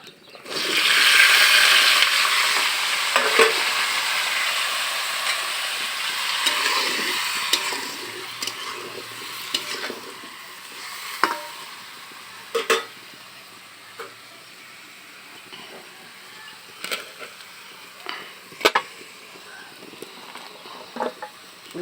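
Vegetables and spinach frying in a pan on the stove, a steady loud sizzle and hiss with scattered scraping clicks from stirring, the sizzle easing slightly over time, with no talking.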